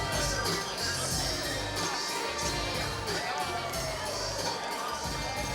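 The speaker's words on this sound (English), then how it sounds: "But it's the crowd that will let you know how they feel." A crowd roars and cheers after a victory at the Eternal MMA 68 cage fight. The noise is loud, dense and sustained across the whole stretch, with no break.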